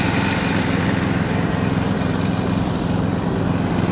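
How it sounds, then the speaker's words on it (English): A racing lawn mower engine runs steadily and loudly at a junior mower race at Mount Mary, with a continuous buzzing drone and no talk. "See this red lawnmower?"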